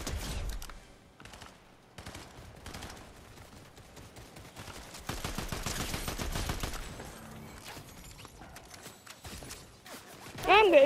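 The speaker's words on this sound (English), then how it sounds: "I'm getting shot!" Repeated gunshots and rapid bursts of fire in Fortnite, moderately loud with uneven spacing and a busier volley in the middle, with a player talking over the shooting.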